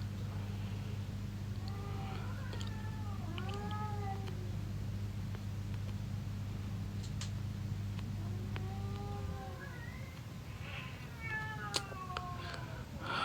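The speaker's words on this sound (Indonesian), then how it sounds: "Iya, kedengeran ya suara kucingnya" A cat meows in drawn-out, rising and falling cries, two bursts of several calls each, over a steady low hum that stops partway through; a night-time cat squabble over territory.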